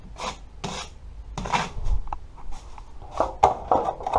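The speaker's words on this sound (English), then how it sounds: "on our knife, and we're just going to put it over the holes in the areas we want to fill" A putty knife scrapes joint compound across drywall holes in repeated rasping strokes, with uneven, close, moderately loud passes separated by brief pauses.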